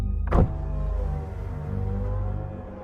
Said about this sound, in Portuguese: Então o homem acenou para mim de forma amigável e baixou o vidro do carro